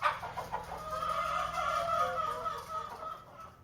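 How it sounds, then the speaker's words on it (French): Around 150 hens and a rooster cluck steadily on a dairy farm, a dense, close chorus of overlapping clucks and squawks with no talking. "on a environ 150 poules avec le coq Georges."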